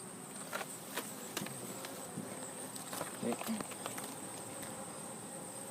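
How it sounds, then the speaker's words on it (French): Honeybees buzz at an open beehive, a steady close hum around the hive with brief taps and handling clicks, while people talk quietly nearby. "Attention, c'est abeille."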